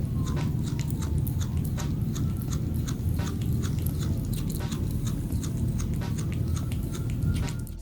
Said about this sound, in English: when the kitten is eating, you're gonna hear this kind of grinding, almost chewing on the lips